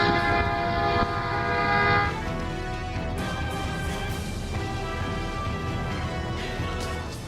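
A passenger train at a Pakistan Railways station rumbles loudly with a sustained horn blast over the first two seconds, then the heavy rolling clatter of carriages continues, with faint overlapping tones and no clear speech.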